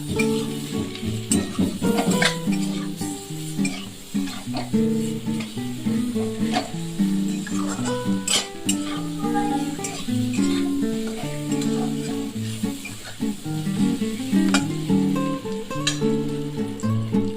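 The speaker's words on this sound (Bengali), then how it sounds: "এখন একটু ভেজে নিচ্ছি আলুটা" Potato pieces frying in a pan with turmeric and salt give a steady sizzle and crackle, joined by occasional clinks and scrapes of stirring.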